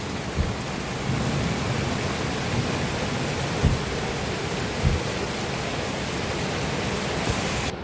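Heavy rain falls in a continuous, dense hiss, close and loud, broken by a few soft low thumps, with no talking.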